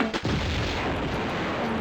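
A grenade launcher fires in Tomb Raider II's Venice level, a single sharp boom at the start followed by a sustained, loud rumbling wash that carries on to the end.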